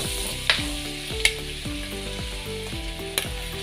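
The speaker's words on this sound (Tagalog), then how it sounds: "Lagyan na natin ito luya." Ginger dropped into hot oil in a frying pan sizzles steadily and close, with a few sharp clinks of a utensil against the pan while Filipino valenciano with hotdogs is cooked.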